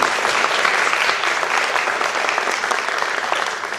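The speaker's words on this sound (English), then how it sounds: "Give a round of applause for Natalie." A crowd at a high school Assyrian American Club New Year event gives a round of applause for the club vice president, dense, loud, sustained clapping that fills the whole stretch without talk.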